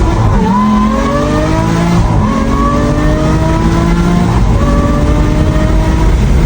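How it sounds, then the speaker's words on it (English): Aston Martin V12 Vantage S with a full F1 straight-pipe exhaust, loud and close as the V12 engine revs and shifts, with rising and dropping tones through several gears and no talking. "I have a Aston Martin V12 Vantage S with a full F1 straight pipe exhaust"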